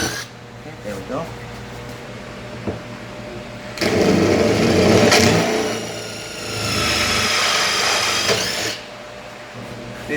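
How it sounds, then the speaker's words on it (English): A power drill bores through acrylic to cut an opening in an aquarium tank, whining steadily at low speed and then louder in sustained bursts, with faint clatter between. "You just go nice and slow and let the drill bit do the work."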